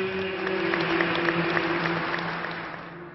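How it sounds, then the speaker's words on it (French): Applause from a crowd outside the cathedral greets the arrival of Abbé Pierre's coffin at his funeral: a steady, dense clapping that holds for about three seconds and fades slightly at the end. "Dès l'arrivée du cercueil, des applaudissements pour saluer l'abbé Pierre"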